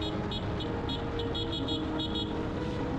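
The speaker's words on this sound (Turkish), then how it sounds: "Klasik motosiklet kornası işte." The horn of a Suzuki GSX-8S motorcycle sounds in a run of short, repeated bright toots, moderately loud over a steady low road and engine rumble.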